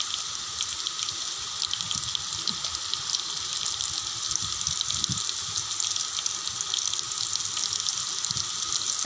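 Okra and chopped green chilies fry in a pan with turmeric and spice powder, producing a steady, dense sizzle that runs continuously and evenly throughout, close by.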